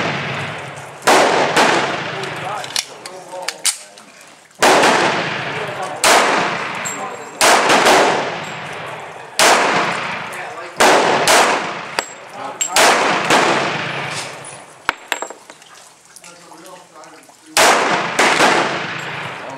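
A SIG 1911 pistol fires a series of loud, sharp shots with ringing echoes, spaced in irregular groups across the stretch, each blast close and dominant.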